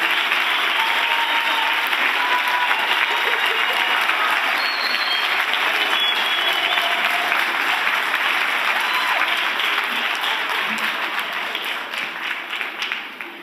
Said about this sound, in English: I think Jaiya needs another round of applause